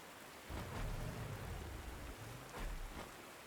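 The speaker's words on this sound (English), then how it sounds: "it's raining" Steady rain hisses throughout in the video game Panzer Corps 2, with low rolls of thunder swelling twice in the background; no one speaks.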